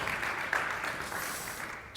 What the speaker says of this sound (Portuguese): Queria pedir uma salva de palmas para a Adriana,